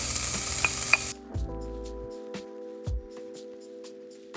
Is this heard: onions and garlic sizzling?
yes